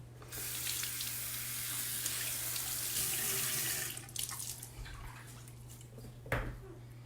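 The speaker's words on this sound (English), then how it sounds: "If you hear extra sounds, that's my daughter taking a bath right here with me." Water runs steadily like a filling bath, then gives way to softer splashes and sloshing from a child bathing, with one sharper splash near the end.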